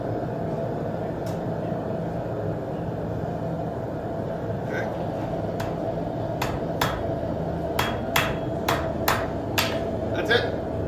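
A blacksmith hammers the forge-welded tip of a heart-shaped piece into a quick taper, sharp metallic strikes ringing out close, sparse at first and then in a quickening run of about ten blows over a steady low background rumble.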